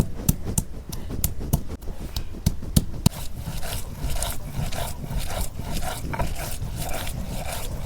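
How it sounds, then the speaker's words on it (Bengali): Garlic is ground into paste by hand while cooking a chicken curry with new potatoes, making repeated rough rubbing and scraping strokes in a brisk rhythm, close and fairly loud without talk. "রসুন বেটে নিতেছি।"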